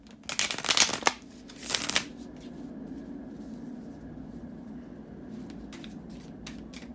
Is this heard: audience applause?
no